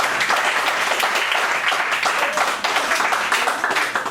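An audience at the end of a religious lecture breaks into loud, dense, continuous applause, a steady wash of many hands clapping close by without speech.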